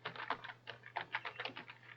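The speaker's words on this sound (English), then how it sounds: "typing like you would on a Braille on an actual keyboard" Fast, light keystrokes rattle on a computer keyboard in a quiet room, a steady run of close, crisp clicks with a low background hum and no talk.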